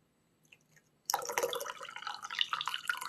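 Water draining out of a tea brewer after steeping, a sudden steady trickling and splashing that starts abruptly and keeps flowing close by, with small drips before it begins.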